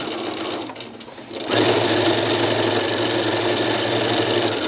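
Sewing machine back-stitching denim while altering jeans for a tapered fit, a quiet start giving way to a loud, steady, close motor whir that runs to the end.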